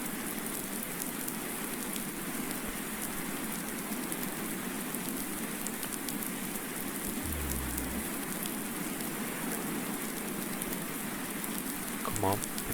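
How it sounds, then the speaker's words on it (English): Steady rain falling in the video game Farming Simulator on a farm with snow on the ground, a constant dense hiss with no breaks, with a couple of faint low thumps near the end. "So we'll let the rain clear the snow, hopefully, if we're fortunate"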